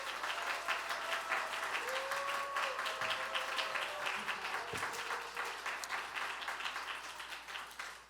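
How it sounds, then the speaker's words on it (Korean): A church congregation applauds to welcome the pastor, a steady wash of clapping held at moderate level for several seconds and thinning slightly toward the end. "목사님 나오실 때 환영의 박수 부탁드리겠습니다."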